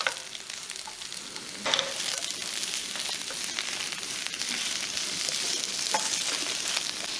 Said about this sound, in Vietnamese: Xào đều lên với lửa lớn nha.